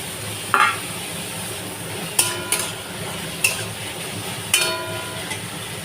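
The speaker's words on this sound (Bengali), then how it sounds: "তো কড়াই তেল দেওয়া ছিল তেলটা গরম হয়ে গেছে ওর মধ্যে দিয়ে দিলাম" Ingredients for a chickpea curry sizzle in hot oil in a kadai, with a steady frying hiss broken by several sharp clinks of a stirring spoon against the metal.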